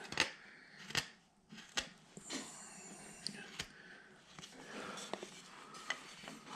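Knife carving into a wooden flat figure, with a series of sharp, brief cuts and scrapes close by, scattered across the clip among quiet handling noise.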